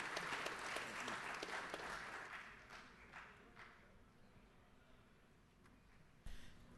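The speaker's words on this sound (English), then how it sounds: "just give him a round of applause, because he was a very prosperous man" Applause in the Georgia House chamber, clapping that is fairly strong at first and then thins and fades toward the end, with a knock near the close.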